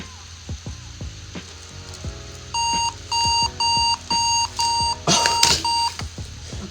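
A steady electronic beep pattern, six or seven short even tones in a row, with a brief burst of crackling noise near the end and light clicks before.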